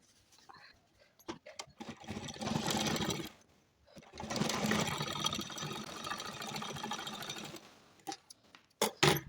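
Sewing machine stitching pleats on a kurti, two long whirring runs of several seconds each, close and fairly loud, separated and followed by short clicks and handling sounds.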